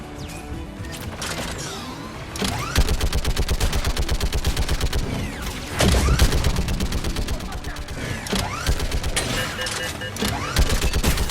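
Heavy, rapid gunfire from a large mounted gun in the game Mass Effect 3: dense, loud bursts of booming shots in sustained volleys with crashing impacts, continuing almost without pause.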